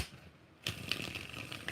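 Tarot cards are shuffled, starting suddenly after a brief lull with a quick, dense run of soft riffling flutters and light clicks, close and fairly quiet, with no voices.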